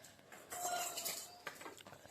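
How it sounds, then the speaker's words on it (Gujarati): A mother scrubs dishes and steel utensils, making a quiet, brief run of clinking and scraping metal with a couple of sharper clanks. "વાસણ ઘસે છે।"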